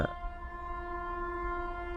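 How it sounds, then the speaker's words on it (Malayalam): A train passes nearby, a sustained tonal horn-like drone over low rumbling, steady and fairly faint for two seconds with no talking. "ട്രെയിൻ പോട്ടെ"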